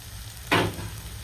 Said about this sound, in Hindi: इसको अच्छा वो कर लेंगे, भून लेंगे अपन इसको।